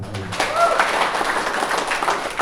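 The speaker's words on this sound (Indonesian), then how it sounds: "Tepuk tangan." Applause from an audience at a seminar on paying off debt, a dense, steady patter of clapping heard fairly close for a couple of seconds, with some voices mixed in.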